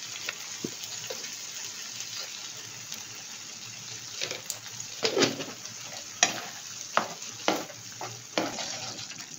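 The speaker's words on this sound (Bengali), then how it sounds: "গ্রেভিটা দিয়ে নেড়ে দিই" A paneer gravy for do pyaza fries hard over a high gas flame, its loud constant sizzle and hiss punctuated by sharp, regular scraping strokes of a spatula as the pan is stirred up close.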